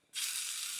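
A freeze-dried potato and onion hash brown hits a hot pan after a flip, bursting into a loud, steady hiss of frying that holds without pause.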